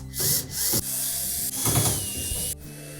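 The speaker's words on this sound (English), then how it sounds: "Then we'll remove the 4 screws on the mounting tabs" Screws being backed out of the bulkhead mounting tabs on a Samsung dryer, with several close ratcheting, whirring tool bursts and clicks separated by short pauses.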